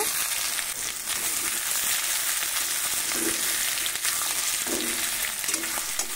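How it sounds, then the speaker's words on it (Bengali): Continuous crackling sizzle of boiled potatoes frying in a pan, with occasional soft stirring scrapes and clinks; steady and close, no voices. "সব আলু কটা আমি একটু দিয়ে ভেজে নেব।"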